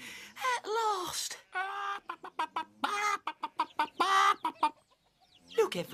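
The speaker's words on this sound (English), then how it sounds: "Look, everyone. Chickens." Chickens and chicks on a farm cluck in a rapid series of close, nasal calls, broken by short pauses, with a longer squawk at the start and end.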